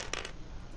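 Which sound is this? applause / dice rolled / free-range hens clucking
dice rolled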